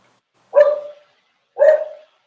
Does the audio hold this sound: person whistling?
no